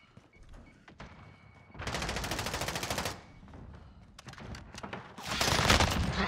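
Submachine gun fire in Call of Duty: Modern Warfare, a sustained rapid burst, a shorter burst, then another dense burst, loud and up close with game effects between them.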